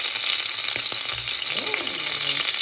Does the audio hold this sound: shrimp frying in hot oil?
yes